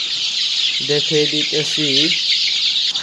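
Desi chickens on a small farm, recently dosed for Gumboro, give a quick run of four or five clucks up close over a steady background hiss, with a voice speaking briefly.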